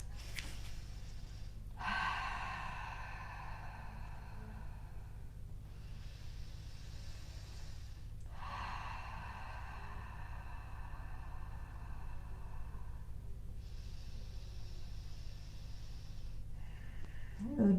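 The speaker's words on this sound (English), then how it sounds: "Ujjayi breathing." Slow Ujjayi breathing during a yoga flow, with long hissing inhales and exhales in a steady rhythm of about four breaths, close and soft over a low room hum.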